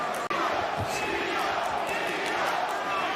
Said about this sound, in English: now you hear the chant from the New York crowd